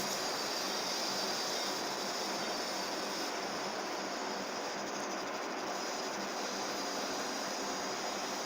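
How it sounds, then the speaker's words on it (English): Freight train hauling tanks and armored cars rolls past in a steady, loud, unbroken roar of wheels and rail noise, with faint squealing and no voices. "There's a lot of train noise and stuff like that."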